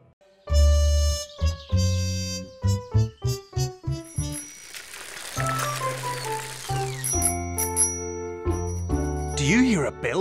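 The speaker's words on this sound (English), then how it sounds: "That's the bell of Rat's bike" A bicycle bell on a character's bike in a children's cartoon rings in bright, tinkling dings that follow a descending musical phrase, mixed in with other playful sound effects.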